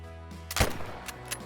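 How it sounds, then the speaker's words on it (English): A single sharp rifle shot at a ram in the hunting game Call of the Wild, one loud crack with a short tail, standing alone over a low steady outdoor hum and a faint later tap. "A 385 yard perfect shot."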